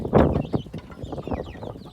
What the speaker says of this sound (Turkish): Civcivler yumurtayla e, yumurta için dövüşüyorlar şu anda